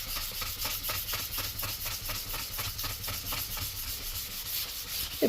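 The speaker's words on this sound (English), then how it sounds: "So no chemicals on here, just 600 grit sandpaper." Steady back-and-forth rubbing of 600 grit sandpaper on a stainless steel sink, a close, even rasping that repeats in a quick regular rhythm throughout.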